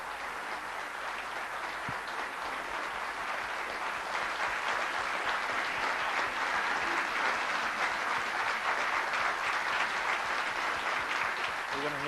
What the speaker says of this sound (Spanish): Yo les pido un aplauso muy afectuoso para recibir a Osvaldo Bayer